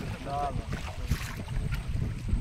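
Wind blows across a river in the Sundarbans beside a boat, a broad rushing buffet on the microphone with gusts, and a faint whistle-like tone early on.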